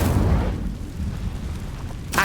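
The Incendio fire spell in Hogwarts Legacy goes off as a deep, rumbling burst that swells loudly at first, then settles into a low roar and ends with a short, sharp crackle.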